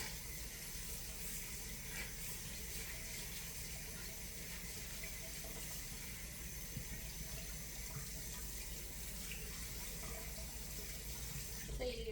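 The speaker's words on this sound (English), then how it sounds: "I need to rinse my rice" Kitchen tap water running steadily into a sink to rinse rice for risotto, a faint continuous hiss and splash with no break, quiet and close, with no one talking over it.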